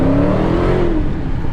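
A 2023 Dodge Challenger Hellcat, rear-wheel drive with skinny tires, accelerating hard in sport mode, a loud, close engine roar that climbs in pitch over a second and a half.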